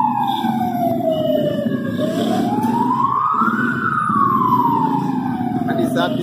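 An ambulance siren wails, rising and falling steadily over a low rumble of engines in a traffic jam, loud and close throughout.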